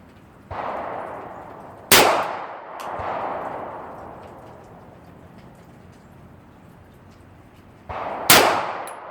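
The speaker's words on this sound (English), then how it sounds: "That's a 9mm, your first shot." 9mm pistol fired at an outdoor range: two sharp, loud shots several seconds apart, each followed by a long ringing decay, heard close with no speech over them.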